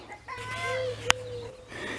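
Nearby hens cluck and warble in a short burst, broken by a single sharp click.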